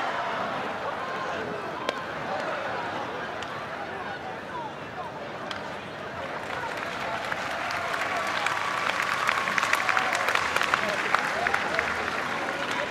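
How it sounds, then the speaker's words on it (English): A crowd at a pony race applauds after the race, broad distant clapping and cheering that builds toward the end, with a commentator's voice running underneath. "they've got the biggest round of applause of the night"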